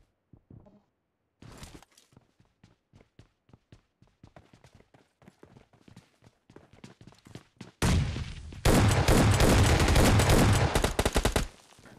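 Shotgun gunfire in PUBG Mobile Lite: a string of sharp, evenly spaced single shots, then a loud, dense burst of rapid fire near the end.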